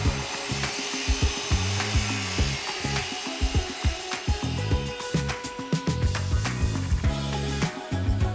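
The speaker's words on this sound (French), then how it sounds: "vous pouvez découper les poutres exactement sur mesure à l'aide d'une scie plongeante" A plunge saw cuts wooden beams to size, a steady rasping saw noise with repeated rhythmic strokes and bursts running loud and close throughout.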